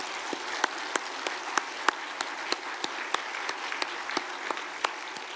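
An audience at a church's 50th anniversary ceremony claps steadily, a dense wash of applause with scattered sharper individual claps standing out throughout.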